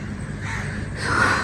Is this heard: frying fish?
no